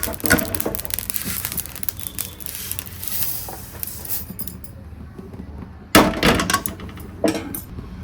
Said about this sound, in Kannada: ಚಟಪಟ ಅಂತ ಇದೆ ನೋಡಿ, ಇದು ಸೌಂಡ್ ಬರ್ತಾ ಇದೆ.